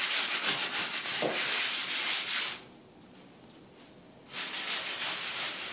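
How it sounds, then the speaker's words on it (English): A moist sponge rubs paint across a surface for a faux marble finish, giving steady scratchy scrubbing strokes that pause for about two seconds, then resume close and clear. "Make sure your sponge is always moist. Otherwise you rub nothing but just dry sponge"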